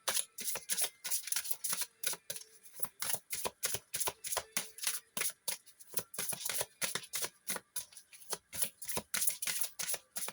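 Tarot cards being shuffled up close, a rapid, crisp run of riffling flicks repeating steadily throughout, with no talk.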